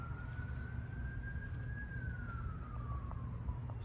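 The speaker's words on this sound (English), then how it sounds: "Siren is a little annoying too, isn't it?" A single wailing siren rises and slowly falls in one long sweep, moderately distant over a low rumbling background, with no speech.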